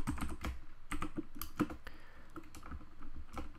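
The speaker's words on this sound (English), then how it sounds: "I'm just going to type in bcdedit set" Rapid keystrokes on a computer keyboard as a Windows boot command is typed, irregular close clicks in quick bursts with brief pauses, no talking.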